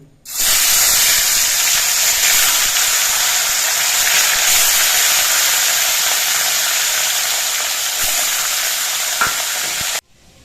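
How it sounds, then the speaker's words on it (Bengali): Several fish go into hot mustard oil in a wok and fry with a loud, close, steady hissing sizzle that holds for about ten seconds and then cuts off abruptly, with no voices. "এবার কয়েকটা মাছ একসঙ্গে দিয়ে আমি ভেজে নিচ্ছি"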